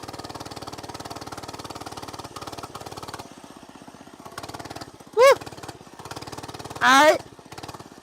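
A Hoverhearts gas mini bike engine chugs with a steady, rapid putter throughout, with two brief high squeaky chirps over it and a short spoken word.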